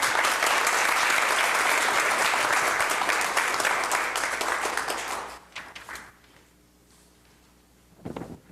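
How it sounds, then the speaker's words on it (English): Sustained applause fills a city council chamber in Oklahoma City, loud and steady for about five seconds before tapering off into scattered claps and room quiet, with a brief rustle near the end. "And this applause is for you."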